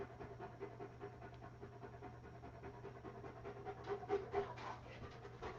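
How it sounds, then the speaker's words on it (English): A dog panting heavily in quick, steady breaths, fairly faint against a low background hum. "the sound of my dog's heavy breathing in the background"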